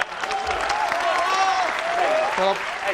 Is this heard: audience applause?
yes